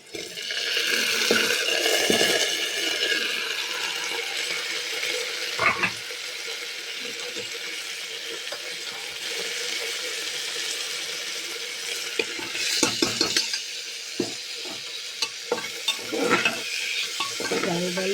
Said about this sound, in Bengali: এবার আমি দিয়ে দেব ধোয়া চাল ডালটা